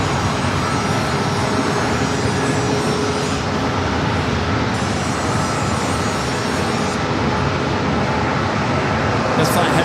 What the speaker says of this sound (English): This flight heading to Portland, flight 1392, a 737-800.